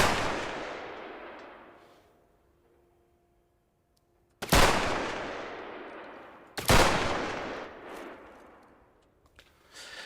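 Gunfire from hip firing a weapon in the video game Bodycam: a decaying burst, then two loud, close shots with long ringing tails a couple of seconds apart, no talk.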